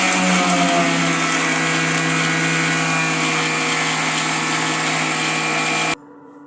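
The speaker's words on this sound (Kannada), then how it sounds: "ಈಗ ಇದನ್ನು ಒಂದು ಮಿಕ್ಸಿಗೆ ಹಾಕೊಂಡು ರುಬ್ಬೇಕಾಗಿದ್ದೀನಿ." Mixer grinder grinding onion, coriander and green chillies, a loud steady motor whine for about six seconds that cuts off abruptly near the end.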